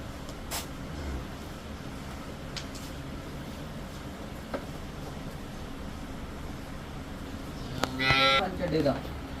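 A cow moos once, loud and close, near the end after a stretch of quiet dairy-farm background with a few clicks.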